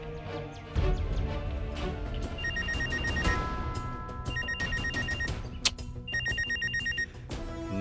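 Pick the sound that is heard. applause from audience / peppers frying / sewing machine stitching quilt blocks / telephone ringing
telephone ringing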